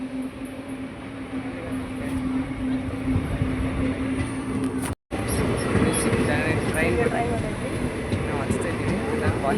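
A train pulls into a station with a steady, loud rumble and a sustained tonal hum. A brief dropout comes midway, then the rumble and clatter resume with louder rattling, and people are heard around it.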